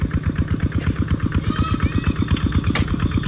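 A motorcycle engine runs steadily close by, its loud, even throbbing pulses repeating rapidly without a break.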